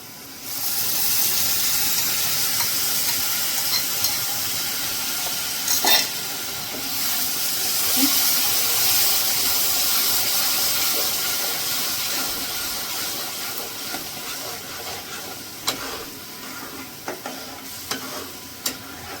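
Spinach and yogurt puree hits a hot pan of oil with onions, giving a steady close sizzle and hiss that runs throughout, with occasional stirring scrapes and small clicks and no talking.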